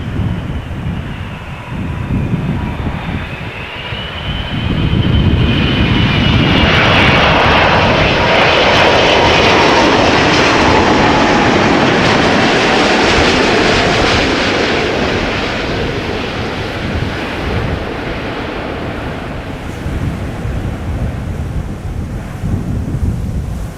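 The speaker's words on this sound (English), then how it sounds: "all the reverse engine noise will be blowing towards us" A KLM Boeing 747 cargo jet lands and roars through reverse thrust, the engine noise swelling into a loud, sustained rumble blown toward the listener, then slowly easing as the plane decelerates down the runway.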